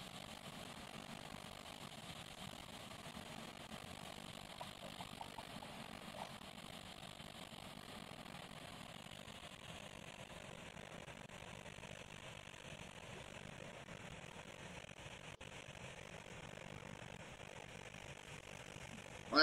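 Steady airplane engine drone from an Air France jet in the Roblox video game, a continuous mid-level hum held for the whole stretch with a slight shift partway through and a brief burst at the very end.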